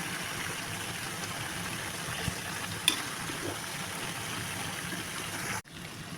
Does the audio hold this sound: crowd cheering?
no